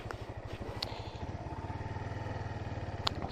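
A motorcycle engine drones steadily while riding along an open road, its rapid even pulsing loud and close with wind and road noise throughout.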